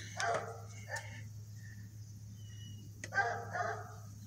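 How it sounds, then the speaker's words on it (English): A dog barks a few times in two short groups separated by a pause, over a steady low hum, moderately close. "What are you barking at?"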